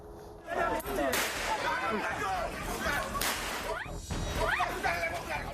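Sharp, loud cracks of police gunfire ring out amid a noisy, shouting crowd during a health-protocol raid in Medan, Indonesia, with several reports scattered across the commotion.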